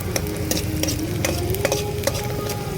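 Chitranna fries in a pan while being cooked inside a truck, a constant sizzle broken by regular sharp scrapes and clinks of a spoon stirring, close and fairly even.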